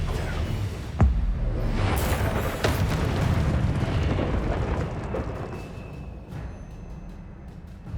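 Confringo fire spell in Hogwarts Legacy, with a sharp blast near one second followed by a rolling, crackling burst of explosions and whooshes that slowly fade.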